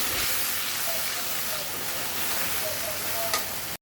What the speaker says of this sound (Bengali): এখন পনির ভাজা তেলেই ফোড়ন দিয়ে দেব গোটা গরম মশলা, এলাচ, দারচিনি আর লবঙ্গ